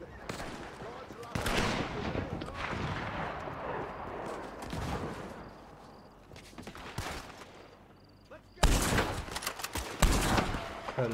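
Rapid bursts of gunfire from a Red Dead Online mission, dense volleys and single cracks running nearly continuously, with a loud closer flurry near the end.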